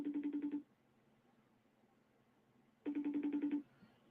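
A telephone rings twice, faint and unanswered, in two short warbling bursts separated by a long quiet gap, with no talking.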